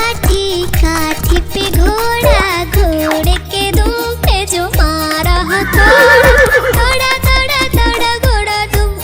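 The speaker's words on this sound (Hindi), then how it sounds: "दौड़ा दौड़ा दौड़ा घोड़ा दुम उड़ा" Cartoon horse whinnies in a Hindi children's rhyme about a wooden-stick horse, over a busy musical backing with steady trotting beats; a rising neigh-like cry stands out near the middle.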